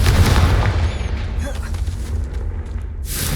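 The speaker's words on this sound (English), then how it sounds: "Confringo!" A Confringo fire-spell blast in Hogwarts Legacy booms loudly at the start, then a heavy low rumble rolls on for several seconds, with a brief hiss near the end.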